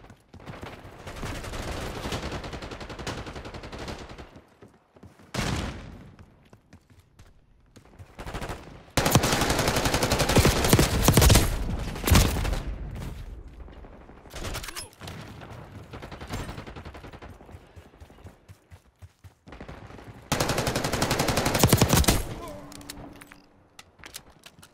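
Automatic gunfire in Black Ops 6 comes in several long, loud bursts separated by quieter gaps, each rattling stretch lasting a few seconds amid shooter match ambience.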